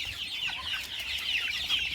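Young backyard chickens cluck and chirp softly together, a faint, busy chatter of overlapping calls with no voices.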